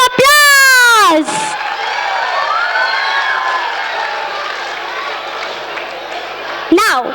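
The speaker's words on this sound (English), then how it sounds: "So please give them a huge round of applause." A school annual fun show audience cheers and shouts for the teachers after a dance, a loud sustained crowd roar with children's voices that swells and stays steady, following a brief whooping voice at the start.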